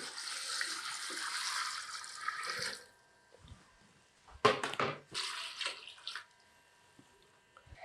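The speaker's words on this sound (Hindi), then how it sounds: "अब टाइम आ गया है हमारी यखनी इसके अंदर शामिल करने का।" Beef stock, about three and a half litres of yakhni, is poured into a large pot for an eight-kilogram rice pulao, giving a steady rushing gush that stops abruptly, followed by clanks, splashes and scattered handling noises.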